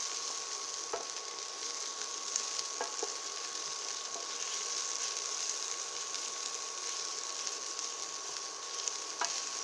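Onions frying in a pan with peppers for a spicy low-carb dish, a steady close sizzle running throughout, with occasional faint clicks of stirring.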